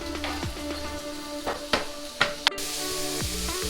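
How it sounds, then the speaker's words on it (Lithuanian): Turkey frying in a pan with a spoonful of sesame oil, a steady close sizzle with a few sharper pops and crackles throughout. "Kol kepa kalakutieną"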